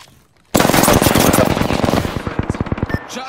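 Rapid automatic gunfire in the video game Apex Legends, played on a PS4 Pro: a loud sustained burst after a brief quiet start, breaking into distinct individual shots toward the end.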